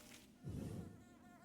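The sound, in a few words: bees buzzing in Hollow Knight video game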